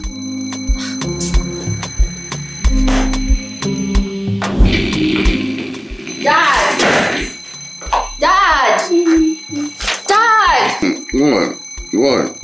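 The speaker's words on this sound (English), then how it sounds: "please put off the alarm" A morning alarm clock rings with steady, repeating tones through the first few seconds, then people talk over and after it in a home.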